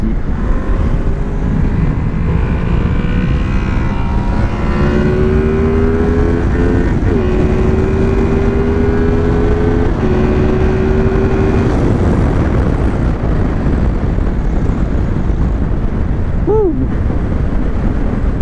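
Honda VFR 800 four-cylinder motorcycle engine pulling and revving at speed on the road, a steady drone whose pitch climbs and shifts through gears, heavily mixed with loud, constant wind rush.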